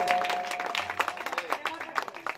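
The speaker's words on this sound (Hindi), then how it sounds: "जोरदार ताली हो जाए एक बार।" Applause from an audience at a stage honouring ceremony, a burst of clapping mixed with crowd noise and some voices, fairly close and continuous.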